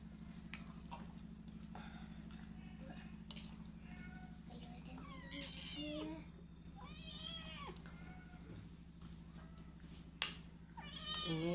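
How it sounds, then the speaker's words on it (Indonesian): A cat meows in short repeated calls around a durian-and-sticky-rice kolak meal, moderately close over a steady low hum, with brief background noise. "Maaf berisik ada kucing ya teman-teman."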